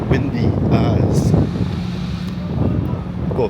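Wind gusts across the microphone on a sunny but windy day in Manchester, a steady low roar that swells and eases over a few seconds with faint voice-like murmurs underneath.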